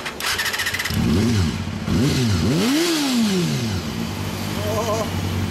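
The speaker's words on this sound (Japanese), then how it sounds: "OK、 エンジン音聞かせて。" A 1994 Honda CBR250RR (MC22) 250cc sport motorcycle engine revs hard several times, pitch sweeping up and down with each throttle blip, loud and close, then settling to a steady idle.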